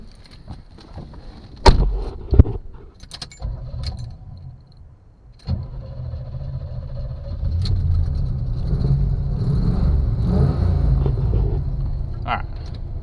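A 1974 Chevrolet Nova being readied for autocross rumbles as it pulls away, with a few sharp clunks and key jangles first, then a steady low engine drone that builds and holds while driving.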